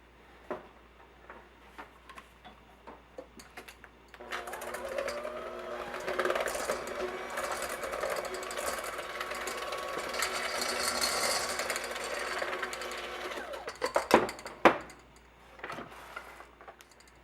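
An electric mixer beats sugar and butter for a chocolate loaf. A steady whirring motor runs for about ten seconds, with ticks and clatters before and after.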